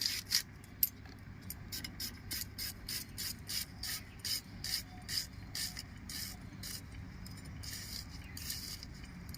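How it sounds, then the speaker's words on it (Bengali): Fresh ginger rubbed against a kitchen grater while making veg momos, a series of quiet, rhythmic scraping strokes repeating close by, with no speech. "আদাটা আমি ঘষে নিচ্ছি"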